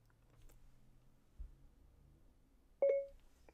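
An Anker Soundcore Flare 2 Bluetooth speaker plays the brief Siri activation chime, a single short clear tone after quiet handling noises, fairly close and alone.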